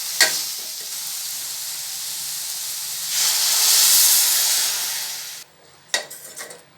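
Carrots for a carrot stir-fry with turmeric hiss and sizzle loudly in a hot pan as water is poured in. A steady steamy hiss swells to a louder burst, then cuts off and is followed by a few clinks and stirring sounds.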